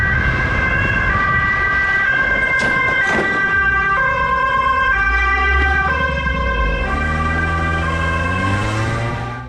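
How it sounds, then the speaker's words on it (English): Police sirens wail loudly and continuously in rising and falling sweeps, with a motor vehicle rumbling underneath as they chase a biker. "Still hearing the sirens behind him"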